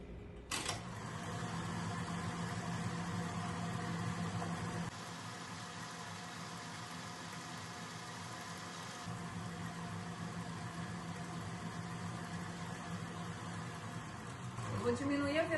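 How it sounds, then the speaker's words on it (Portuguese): A stand mixer beats cake batter with sugar, making a steady close motor whir that drops to a lower speed partway through, with a voice talking over it. "Eu vou diminuir a velocidade da batedeira para esse pozinho do açúcar não ficar voando na gente"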